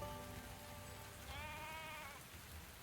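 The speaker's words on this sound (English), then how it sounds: "There's a sheep out front." A sheep bleats once in a video game, a wavering mid-length call over a steady patter of rain, with no talking.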